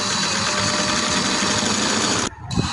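A sewing machine stitches the last seam of a trouser leg hem, running steadily and loudly at close range with a busy whirring hum, then stopping abruptly near the end with a faint clunk.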